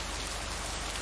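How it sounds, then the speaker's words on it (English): Steady rain falling in the video game Lake, a dense even patter filling the short moment with no voices over it. "Can't harvest taters with all this rain."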